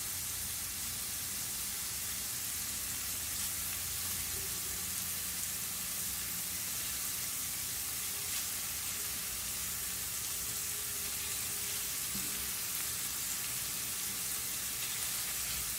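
Shrimp frying in a pan, a steady broad sizzle with a constant hiss throughout and no talking.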